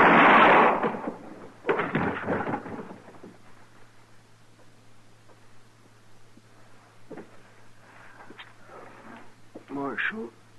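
Gunshots ring out in a radio western drama, two loud, echoing blasts in the first three seconds, followed by quieter room sound and faint movement.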